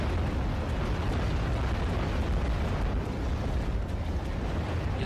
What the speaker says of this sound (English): Pumas are firing the missiles.